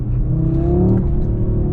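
A 2022 Audi RS3 in performance mode downshifts and accelerates hard, its engine note swelling into a loud, rising rev heard from inside the car, then easing off.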